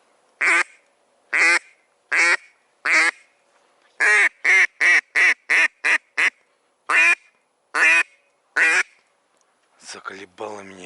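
A handheld duck call blown to lure a crow gives a dozen or so loud, close nasal quacks, first spaced singly and then in a quick run, followed by a brief rustle and murmur at the end.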